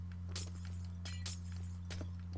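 Glass panes being broken in Minecraft while a mountain house balcony is rebuilt: three or four crisp, bright shattering clicks spaced about a second apart over a steady low hum.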